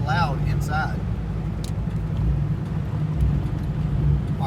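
Steady low rumble of a Ford Mustang Foxbody with a bigger N51hr cam and automatic transmission, heard from inside while driving, with a continuous engine drone and road noise throughout and a brief voice near the start.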